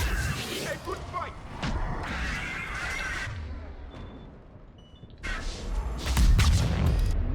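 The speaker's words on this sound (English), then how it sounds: "Nice explosion." Explosions and combat blasts in Mass Effect 3, bursts of booming crashes and whooshing debris arriving in clusters with a short quieter lull between them, mixed with brief game voices.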